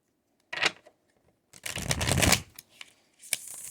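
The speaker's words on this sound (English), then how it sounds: "we're going to shuffle one more time" Tarot cards being shuffled by hand in a quiet room: a short riffle, a pause, then a longer, louder burst of rapid card flutter and a final brief shuffle, with no talking.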